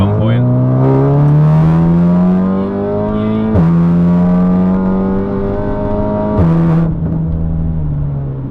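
A 500 bhp Stage 3 Golf R with a DSG gearbox accelerates hard, its engine note climbing steadily then dropping sharply at two quick gear changes before rising again, loud and close from inside the car.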